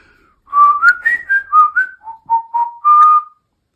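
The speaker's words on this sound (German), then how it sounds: "ich stehe vor seiner Zimmertür und pfeife den Pfadfinderpfiff" A person whistles a scout signal call, a lively, close and clear melodic phrase of about a dozen quick notes rising and falling, heard alone.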